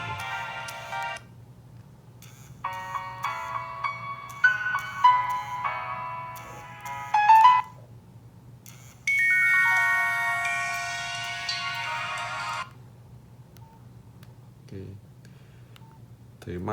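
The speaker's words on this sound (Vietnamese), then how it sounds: "Vừa chuông vừa rung." A Nokia 8600 Luna slider mobile phone plays a melodic electronic ringtone over a low steady vibration hum, the tune moving through several phrases and ending in a bright descending run before the buzz carries on alone.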